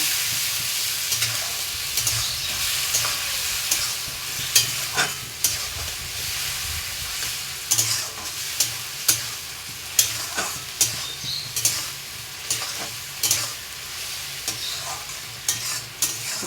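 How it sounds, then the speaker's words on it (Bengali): A ginger, garlic, tomato and onion paste stir-fried in a pan gives a loud, steady sizzle and hiss. Repeated scraping and stirring knocks run through it, with no talking. "ভাজা ভাজা করে নেব।"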